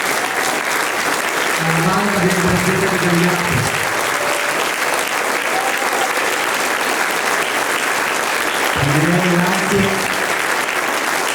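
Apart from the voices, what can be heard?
audience applause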